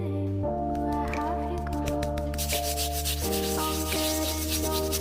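Steady rubbing and scrubbing as metal polish is worked over an Indian coin during restoration, a continuous close friction sound that brightens in the second half, over a sustained low tonal hum in the background.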